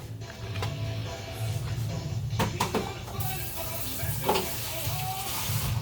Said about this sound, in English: I'm going to toss in some chopped onion.